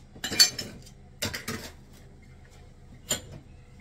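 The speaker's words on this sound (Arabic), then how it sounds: "هما الكيسان انا غسلتهم غادي نردهم للشبكه" A few bright clinks and clatters of washed cups being set back on a rack in short bursts, separated by quiet pauses.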